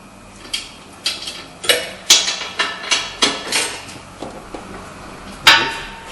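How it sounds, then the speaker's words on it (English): A ratchet tightens a front brake bolt on a 2014 Audi A4, giving a series of sharp metallic clicks and clanks at irregular intervals, close up and with no talking. "we're just going to tighten it up with the ratchet"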